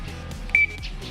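A single short electronic beep from an SGP motorcycle alarm arming on a Raider 150, sounding once, brief and clear, over quiet room noise.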